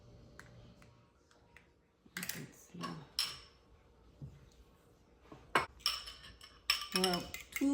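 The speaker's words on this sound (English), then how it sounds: "we're going to whisk our egg in a separate bowl" An egg whisked in a separate bowl for Jamaican toto, with quick metallic clinks and rattling strokes of the whisk against the bowl in uneven bursts, mostly close and fairly quiet, with faint talk in the background.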